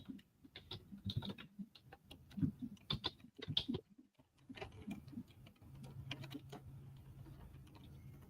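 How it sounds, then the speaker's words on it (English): Rapid, irregular clicking of fingers on a computer keyboard, close and fairly quiet, with short pauses between bursts of keystrokes and a faint background hum. "So I have, well, I'll type them in."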